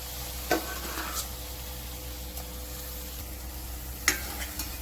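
Tomato puree cooks in masala in a pan for dhaba-style chole, making a soft, even sizzle close by, with a couple of brief spoon clinks against the pan.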